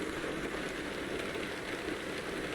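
Steady rain falls in the American Truck Simulator video game as a dense, even hiss and patter that holds constant throughout.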